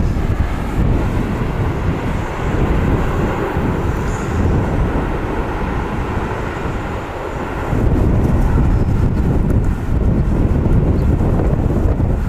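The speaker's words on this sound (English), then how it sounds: "It's a great landing." A seven-year-old Qantas Airbus A320 airliner lands at Wellington Airport with a steady, loud jet roar mixed with wind buffeting on the microphone, swelling slightly toward the end.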